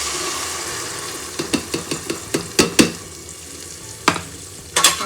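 Ground masala paste and fried onions sizzle in a pan, stirred in a series of rhythmic scraping strokes with a few louder clatters, close and steady with no talking.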